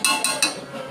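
A masher stirs and mashes cooked masoor lentils in a metal pot, giving three quick, close, bright clinks in rapid succession followed by a soft fading ring.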